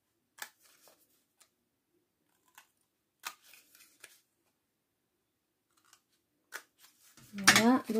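Scissors snipping paper along the folds of a homemade storage box, several short, crisp cuts spaced irregularly in a quiet room, close and fairly faint.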